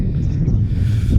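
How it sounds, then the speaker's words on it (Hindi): Low, steady, cool wind on a rooftop buffets the microphone with a rough, close rumble for about a second. "और ठंडी ठंडी हवा चल रही है।"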